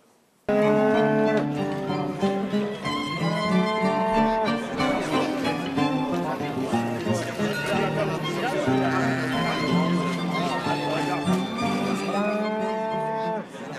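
Cattle moo repeatedly at an agricultural livestock fair in France, loud drawn-out calls overlapping one another with a crowd chattering and a voice talking throughout.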